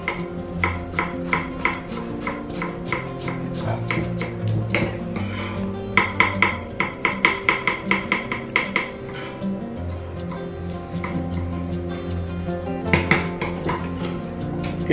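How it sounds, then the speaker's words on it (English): A big knife chopping parsley, onion and garlic on a board for vegan garlic and herb soft cheese, rapid bursts of rhythmic knocks with pauses between, close and clear with no talk. "Get my big knife and chop the whole lot up."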